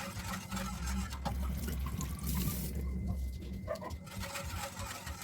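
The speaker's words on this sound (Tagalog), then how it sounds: "Tuloy-tuloy lang ang ating halo nito guys." A gelatin and sugar mixture being stirred continuously in a pot for ice candy, a close, sloshing liquid swirl with soft scraping, rumbling and a few clinks, no talk.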